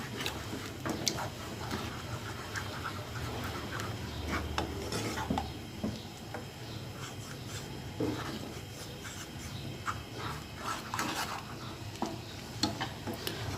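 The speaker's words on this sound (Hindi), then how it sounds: "इन सब चीज़ों को अच्छे से मिक्स कर लें।" Tamarind chutney mixed with red chilli powder, chaat masala and ginger powder is stirred in a pan, a soft continuous scraping and clinking of a spoon, faint and close, with no talk.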